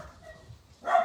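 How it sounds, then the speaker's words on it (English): Household dogs bark at someone arriving at the door: a quiet, murmuring stretch gives way to one sudden, loud, close bark burst right at the end. "there's someone obviously at my door and my dogs are going off their trolley"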